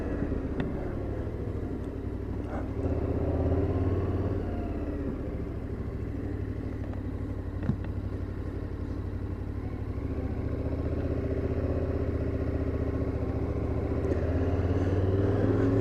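A motorcycle rides along a dirt track through hilly country in Central or South America, its engine a steady, close, continuous drone with faint rattles and clatter throughout and no talking.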